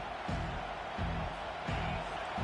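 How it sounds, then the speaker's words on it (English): Stadium crowd at a college football game roaring in steady waves to back the home defense, with rhythmic low thumps pulsing under the sustained din. "Listen to this crowd just shaking the corners of this place trying to help their defense."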